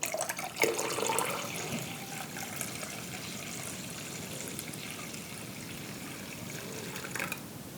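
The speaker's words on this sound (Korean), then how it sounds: "물 1리터를 부어주세요." Water poured for kimchi brine: about a liter streaming steadily into a container, a continuous mid-level splashing pour.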